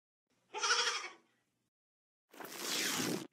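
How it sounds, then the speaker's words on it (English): A goat gives one short, wavering bleat at close range. After a pause comes a longer burst of scraping, rustling noise. "G is for goat."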